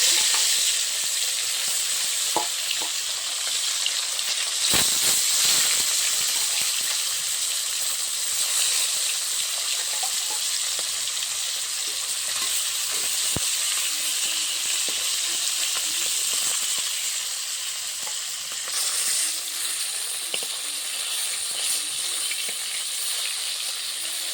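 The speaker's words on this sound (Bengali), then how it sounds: "তেল গরম হয়ে গেছে মাছগুলো ভেজে" Small fish fry in hot oil with a steady, loud, close sizzle and hiss that carries on throughout, with occasional soft stirring clinks and pops.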